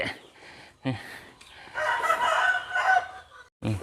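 A rooster crows close by in a backyard garden, a loud drawn-out call with short clucks and squawks around it, no talk.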